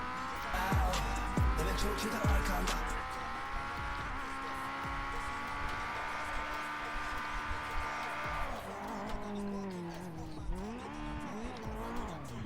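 An old Honda car drives in a video game, with its engine holding a steady, loud drone that shifts pitch as it changes gear, and tires squeal briefly. Voices chat over it.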